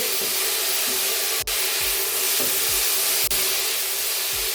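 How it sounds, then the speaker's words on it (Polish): Rice noodles, chicken and carrot fry in a nearly oil-free pan, giving a steady, loud sizzling hiss throughout with soft periodic scraping thumps from stirring. "Teraz wszystko przesmażamy około 2-3 minutki."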